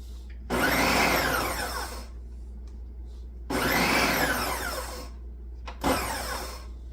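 A Ninja NF701 Professional XL food processor chops food in three bursts, each a loud whirring motor roar with rising pitch that cuts off abruptly, the last burst shorter, separated by near-quiet pauses.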